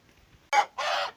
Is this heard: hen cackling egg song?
yes